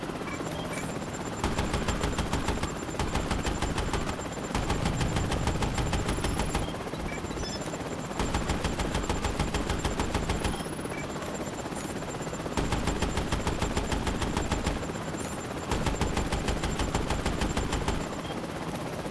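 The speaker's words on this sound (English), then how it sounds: "Oh, they are fast to delete with the machine gun." Machine gun fire in the video game Prototype. Sustained rapid bursts of automatic fire repeat over and over, several seconds each, loud and dense with short pauses between them, alongside a continuous rotor-like mechanical drone.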